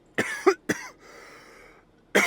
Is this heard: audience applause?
no